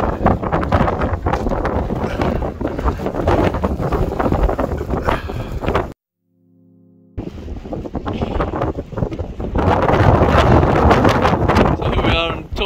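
Strong wind buffets the microphone on the summit of Buachaille Etive Beag in wet Scottish mountain weather, a loud continuous roar that cuts out briefly midway and then returns just as hard.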